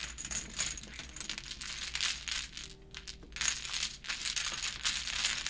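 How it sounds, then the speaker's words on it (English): Pai gow tiles swished and clacked across a table during a shuffle, a busy stream of small hard clicks and rattles with a brief pause midway. "they were washing the tiles before they started washing the cards"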